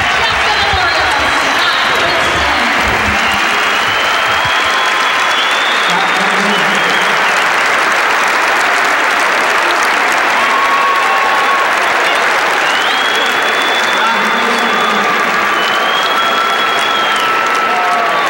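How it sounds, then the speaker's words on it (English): A standing ovation at the 2008 New Jersey state individual wrestling championship: a large arena crowd applauds steadily and loudly for the full stretch, with a few whistles and cheers rising above the dense clapping. "That's a standing ovation as we just listen to the crowd."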